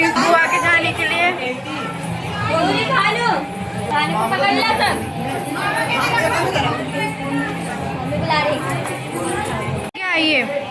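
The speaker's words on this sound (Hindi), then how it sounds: "भीड़ लग गई बुआ के जाने के लिए।" A crowd of family members gathered at home chatters loudly and continuously, with overlapping adult and children's voices close by.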